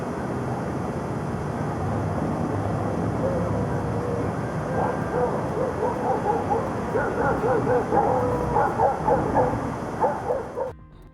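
Dogs bark in a forest setting, the barks repeating in a loose, uneven series over a dense, constant rumbling background that stays loud throughout.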